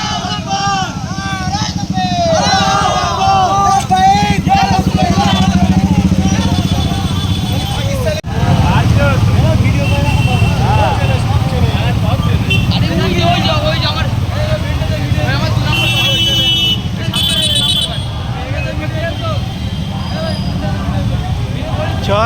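Thousands of motorbikes drone and rev in a street rally against the Waqf bill in Amdanga, with many people talking and shouting over the steady traffic noise.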